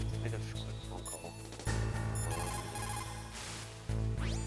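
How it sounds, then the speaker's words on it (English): Codec call ringing in the Metal Gear Solid video game, a repeated electronic beeping tone over game music and low effects, fairly loud and continuous. "And make a quick phone call."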